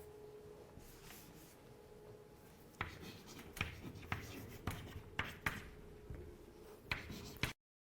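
Pen strokes on paper while writing chemical formulas, a soft close scratching with a series of sharp little taps and short strokes in an irregular rhythm, faint and with no talking.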